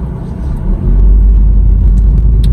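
Car interior on a neighborhood drive: a steady, loud low rumble of engine and road noise that swells slightly after the first second, with faint higher clicks and no talking.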